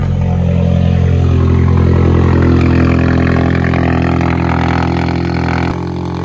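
Loud, steady Audi TT engine droning from inside the car during a cold-start high idle, a low rumbling tone that holds constant, then drops slightly near the end.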